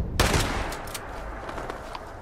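A burst of rapid video game gunfire in Fallout 76 followed by several more scattered shots, sharp and loud over a noisy background.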